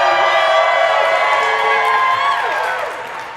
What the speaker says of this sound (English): Cheer if you are a part of the live theater experience.